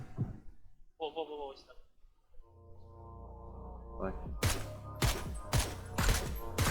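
Gunfire in the battle-royale game PUBG: after voices talking over a low droning tone, a run of four or five sharp, loud shots cracks out in quick, uneven succession.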